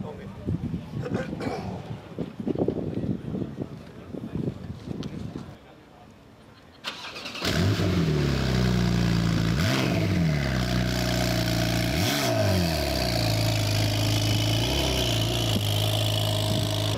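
A Ferrari 430 cranks and fires into a loud, close engine roar at a supercar show in Munich, then holds a high idle with several sweeping revs. People talk over crowd noise before the start.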